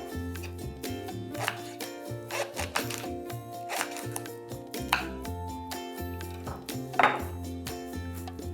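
A knife chops celery on a cutting board for breakfast muffins, a series of crisp, irregular thuds close by, with a few heavier strokes standing out.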